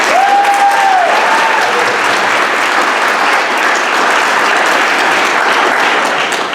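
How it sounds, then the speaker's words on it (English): Loud, sustained applause from a crowd at a 2025 school graduation ceremony, dense clapping throughout with a brief whistle-like cheer near the start. "please give Becky a round of applause."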